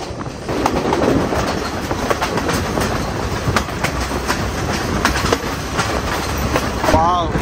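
A Sri Lankan passenger train running from Ella to Nuwara Eliya, heard from inside a general coach, with a loud continuous rumble, rhythmic wheel clatter and a brief squeal near the end.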